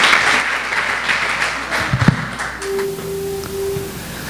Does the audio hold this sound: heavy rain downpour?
no